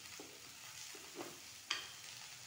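Mixed vegetables frying for biryani, a faint, soft sizzle with a few light taps of a spoon against the pan, one sharper clink near the end.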